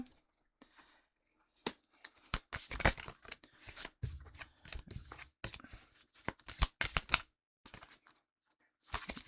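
Tarot cards being shuffled and drawn during a reading, giving bursts of crisp papery riffling and slapping, close and fairly loud, separated by brief pauses and a few softer flicks, with no talking.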